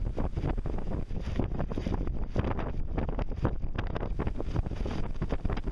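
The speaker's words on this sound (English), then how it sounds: "Big gust right there." A strong gust hits a sailboat out on the water, roaring and buffeting against the microphone in rough bursts, loud and close, while water sloshes against the hull and no one speaks.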